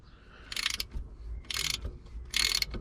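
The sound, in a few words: loosening a handbrake caliper bolt with a Halfords ratchet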